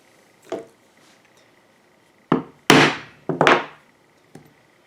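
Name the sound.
punching stitching holes in leather with a diamond pricking chisel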